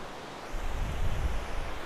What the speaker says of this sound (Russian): Вот видите, волна такая здесь.